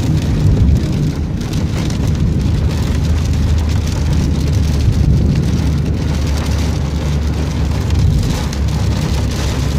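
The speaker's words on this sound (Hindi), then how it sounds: "ज़ोरदार बारिश अपना ज़ोर दिखा रही है।" Torrential rain pounds steadily on a travelling vehicle, a loud continuous wash of drumming drops with a low road rumble underneath and no talking.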